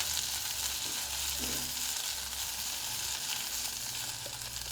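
Chopped fenugreek leaves fry in hot oil over a medium gas flame, giving a steady, close, continuous sizzle that holds at an even level from start to finish with no voices.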